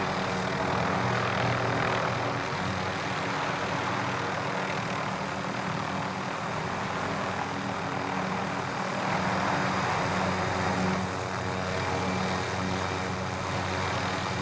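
A helicopter drones overhead in Call of Duty: Modern Warfare, a steady, loud rotor and engine roar with a humming tone that holds throughout and never fades.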